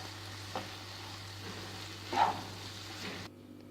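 Ridge gourd and black-eyed pea curry sizzling faintly in a pan as it is stirred after coriander goes in, a soft steady crackle with a brief louder scrape near the end before it cuts off.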